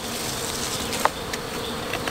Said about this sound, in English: These bees are pretty mad now.